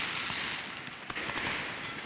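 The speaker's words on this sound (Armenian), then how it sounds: "ընդունում այս արդեն կարելի ասել տոնական հրավառությունը Միկայի պատվին" Celebratory fireworks after the Armenian Cup football final in 2011, a dense crackling wash with several sharper pops and bangs, heard from a distance through steady crowd noise, with no voice on top.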